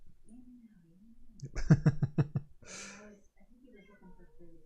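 A cat meows in a few short, drawn-out calls, close and fairly quiet, with a people talking in the background.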